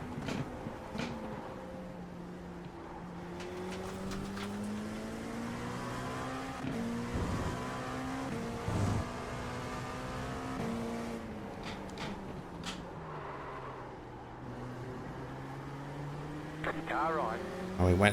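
Race car engines drone and whine as cars jostle in a pack at Daytona in a racing game, pitch rising and falling through shifts and passes, with occasional tire squeal, while a driver talks steadily over the noise.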